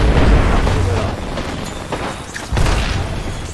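Loud gunfire in a shooting game: a heavy booming shot opens, a rumbling tail follows, and a second blast lands near the end.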